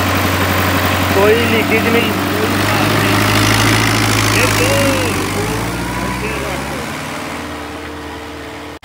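A 2024 New Holland 850 tractor engine runs loud and close with a steady, low diesel rumble that eases slightly toward the end, while someone talks over it.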